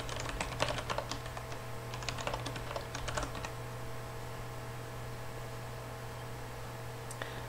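Fingers tapping out a forum post on a computer keyboard, quick clusters of light clicks in the first few seconds, then a quiet steady room hum with a last stray keystroke near the end.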